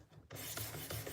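Benchmade knife with S30V steel drawn across a 600 grit diamond stone, a close, steady scraping rasp with faint rhythmic strokes after a quiet start.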